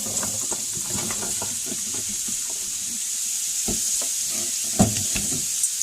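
Carrots fry in a pan with a steady hiss as the rest of a keto mix is tipped in, scattered clicks and scrapes of stirring over the sizzle and a sharper knock near the end.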